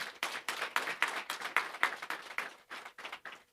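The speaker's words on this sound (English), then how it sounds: "So please give all of us a round of applause" Scattered clapping from a small audience at a government media briefing, individual claps clearly separated and fairly close, in an uneven rhythm for a few seconds.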